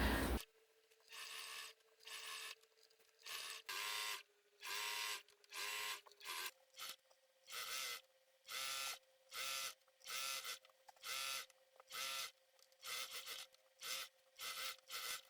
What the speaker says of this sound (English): I'm going to now take it to the sewing machine and I'm going to stitch that down